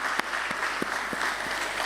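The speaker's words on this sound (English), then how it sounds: "let's start this beautiful morning with a huge round of applause" Audience applause at a stock exchange listing ceremony for a tech company, dense steady clapping from a sizeable crowd filling the hall throughout.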